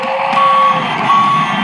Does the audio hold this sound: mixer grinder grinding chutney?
no